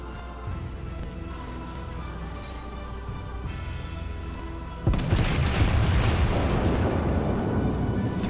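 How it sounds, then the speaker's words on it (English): A naval gun turret salvo from World of Warships erupts midway as a sudden loud, broad boom that rumbles on, after several seconds of steady ship and ocean ambience. "Three turret salvo on the Miyogi."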